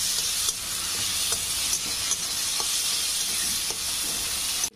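Onion with ginger-garlic paste sautéing in a pan, giving a dense, continuous hissing sizzle with faint occasional stirring ticks, close and steady.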